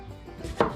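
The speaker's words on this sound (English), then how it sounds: "And start slicing your taters." A kitchen knife slices through skin-on potatoes on a cutting board, giving one crisp, close cut against quiet room tone.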